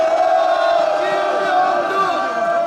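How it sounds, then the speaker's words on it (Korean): A large candlelight protest crowd roars a loud, sustained cheer for a lawmaker, with dense massed shouting and voices rising and falling over the full length. "다시 한번 우리 민병두 의원님에게 크게 함성 한번"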